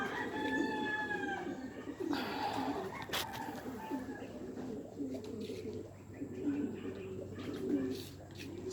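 Racing pigeons coo repeatedly in soft, throaty bursts nearby, with faint background bird calls and a voice speaking briefly under them.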